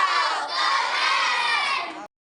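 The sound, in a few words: class of children doing a clapping cheer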